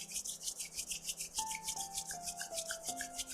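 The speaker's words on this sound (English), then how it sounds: "Gently rub your palms." Palms rub briskly together during a yoga session, a quick, even swishing rhythm up close and soft, over gentle sustained musical tones.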